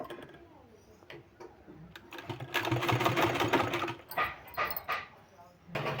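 A sewing machine stitches a sleeve in short rapid bursts of ticking, close and moderately loud, between pauses. Faint background sounds are mixed in.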